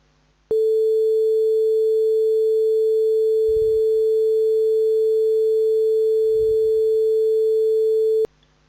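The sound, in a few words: pure sine wave tone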